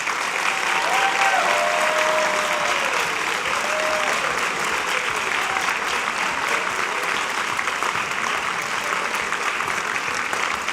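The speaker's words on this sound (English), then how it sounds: "Let's give another round of applause to the..." Sustained crowd applause fills a high school spring band concert hall, dense and even throughout, with a faint tonal whistle or voice briefly audible beneath the clapping.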